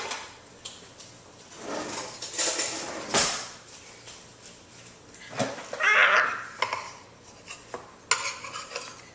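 Drawer rattling and cutlery clinking as a knife is fetched in a home kitchen, a few distinct clacks and metallic jingles at moderate distance with quieter rustling between.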